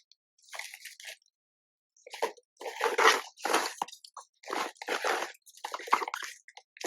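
Close, crisp crunching as a snack is chewed in several bursts with brief pauses, loud and wet-edged, no talking.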